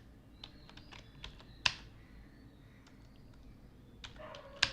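Someone types a keyword on a computer keyboard, a faint scattering of light clicks with a couple of sharper key taps, heard quietly in a still room.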